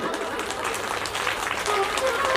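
Audience clapping at a Ram Katha religious gathering in Sonia Vihar, Delhi, a steady wash of applause throughout, building slightly louder toward the end, with voices mixed in.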